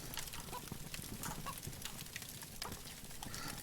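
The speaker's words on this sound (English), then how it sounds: "apparently you can kill the chickens and cook them" Chickens clucking in the survival video game DayZ, short scattered clucks over a steady busy ambient bed, moderately quiet and fairly continuous.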